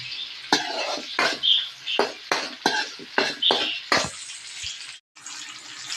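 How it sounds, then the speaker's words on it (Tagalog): Garlic, onion and ginger sizzle in butter in a pan, with a steady hiss broken by repeated scraping stirs, close and fairly loud, without talk. "Iginisa ko po muna ang bawang, sibuyas, luya."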